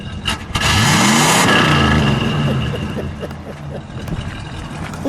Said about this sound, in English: That 383 sounds good. Go ahead, give it a rev.